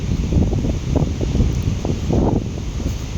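Strong cold wind blows steadily outdoors, a loud, continuous rushing roar buffeting the microphone with gusty surges and no voices.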